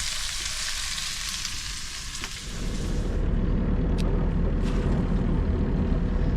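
Butternut squash sizzles in a hot pan with salt aboard a sailing yacht, a loud steady frying hiss that swells into heavier crackling midway, close by, with no talk.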